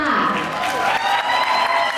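Audience applause and a few cheers greeting James at a lively public showcase event, a brief steady burst of clapping with voices and shouts mixed in.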